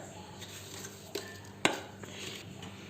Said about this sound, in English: So friends, whisk everything well so that it gets blended with all our powders.